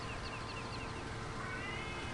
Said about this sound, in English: Can you hear that cat behind me?